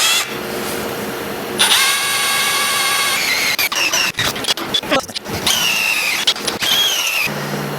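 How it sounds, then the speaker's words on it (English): A power drill bores a hole into an engine, giving two loud stretches of high whining squeal with clattering, scraping bursts of bit and metal between them. "I assume it's gonna get wallered out when I drill it"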